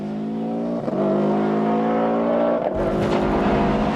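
Mobile 1 Subaru Impreza tarmac rally car flat out on the 1994 Ulster Rally, a loud sustained engine roar close by with a gear change shift in pitch and a brief lift midway.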